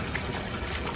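Water pours steadily into an Intex above-ground pool being set up for the season, a continuous broadband gushing rush that fills the whole second, close and even, with no voices.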